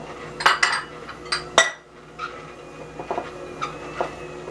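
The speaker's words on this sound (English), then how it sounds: "I'm just going to give it a good stir" A spoon stirs chocolate icing in a bowl, clinking and scraping against the sides in a quick cluster of strokes, then softer intermittent scrapes.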